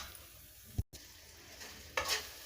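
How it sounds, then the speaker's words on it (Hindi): Ground ginger fries in oil with a soft steady sizzle, interrupted by a brief dropout and a few louder bursts of stirring, close and fairly quiet. "हम अदरक डालते हैं पिसा हुआ और इसको अच्छे से भुनने देते हैं।"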